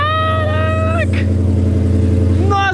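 A car engine at a US auto auction rumbles loud and close with a steady low drone, while a voice talks over it nearly the whole time.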